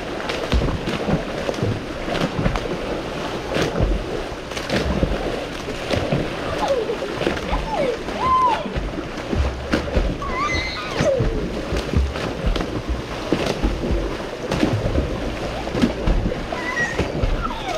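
Water sloshes and splashes continuously in a backyard wave pool stirred up by kids, recorded close on a GoPro camera, with a steady choppy wash and scattered faint voices.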